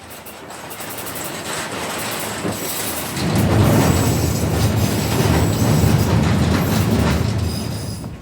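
A rail maintenance vehicle rumbles along the track close by in Kalaw, Shan State, its clattering wheels growing louder and heavier partway through, with steady rolling noise throughout.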